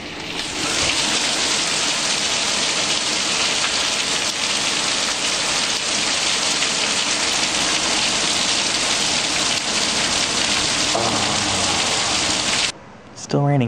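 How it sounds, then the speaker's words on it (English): Heavy rain pours down steadily outdoors during a 2016 storm, a dense, constant hiss and patter of drops on surfaces lasting throughout before cutting off briefly near the end. "Still raining out there. It's been raining for a long time."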